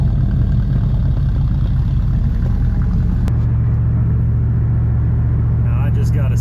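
A restored 1985 Dodge Charger, revived after sitting in weeds since 1996, rumbles steadily as it drives over a river bridge, its low engine drone loud and continuous with a deeper, smoother tone in the second half.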